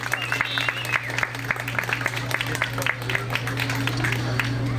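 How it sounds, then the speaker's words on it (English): An audience at an Eid 2021 community gathering applauds, a steady patter of many hands clapping over a low hum, with a voice talking faintly underneath. "give a big round of applause for Brian"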